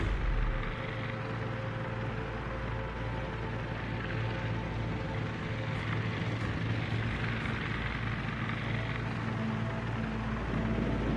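Aircraft launching in the naval battle game World of Warships, a dense, loud engine drone that holds steady and close for the whole stretch without a break.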